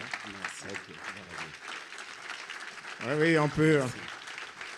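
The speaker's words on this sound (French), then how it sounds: "Est-ce que tu peux acclamer mieux que ça?" A church audience claps through a worship gathering, a spread-out patter of applause running steadily beneath a speaker's voice, which rises loudly near the end.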